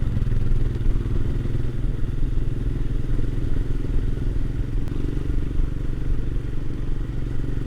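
Steady low engine drone of a motorcycle cruising in top gear, constant and close with wind rumble and no gear changes.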